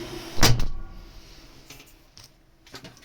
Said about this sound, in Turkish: Şöyle kapıyı da kapatalım.